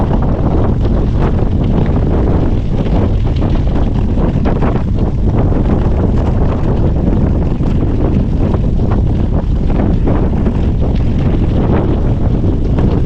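Strong wind roars and buffets continuously against the microphone during a gravel bike ride around a lake, a loud, unbroken rush throughout with no speech.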